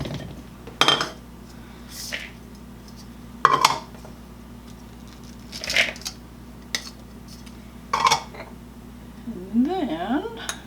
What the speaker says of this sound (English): So now we will put all the dry ingredients into a large bowl and mix all these together.